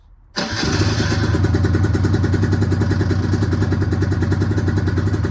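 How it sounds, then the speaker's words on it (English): A Aprilia RS125 two-stroke motorcycle engine fires on a cold start after a short starter whir, then settles into a loud, steady, buzzy idle right up close with no talk over it. "Listen to the cold start on this."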